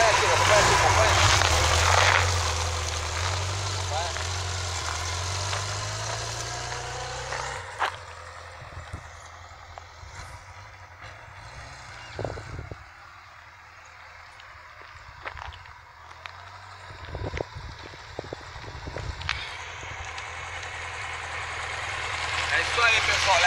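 A Kawasaki KZ1000 police motorcycle engine idles with a low, steady throb that is loud at first and then drops back, while people talk nearby throughout.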